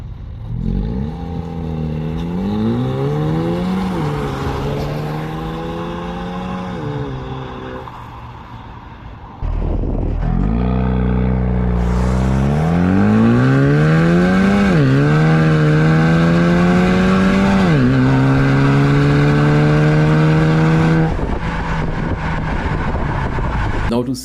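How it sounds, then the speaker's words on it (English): A 2024 Haval H6 GT pulls away from a stop in the rain, its engine note climbing through several gear changes, loud and close with a steady wash of road and rain noise underneath. "it's just me pulling off to give a representation of what it would look like under normal circumstances."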